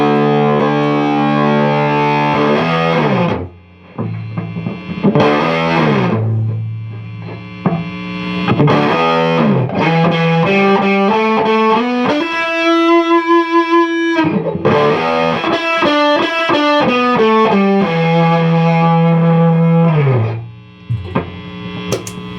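A guitar plays through a Laney Supergroup 100 Mk.1 preamp clone boosted by a Naga Viper, loud and saturated, with riffs, sustained chords and a run of high squealing notes in the middle.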